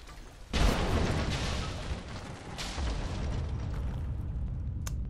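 Barrels explode in the video game Rise of the Tomb Raider: a sudden loud blast erupts, followed by a long rumbling roar, then a second burst of noise that keeps rumbling, with a sharp click near the end.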